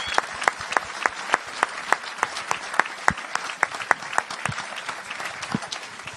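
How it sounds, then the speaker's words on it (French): Congregation applauding during a church gathering, a small group's distinct, sharp claps at an irregular brisk pace, fairly close and clear. "Et on devrait applaudir le Seigneur"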